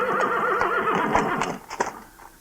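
A horse harnessed to a one-horse shay lets out a long, wavering whinny up close, followed by a few clip-clop hoof steps as it comes to a halt.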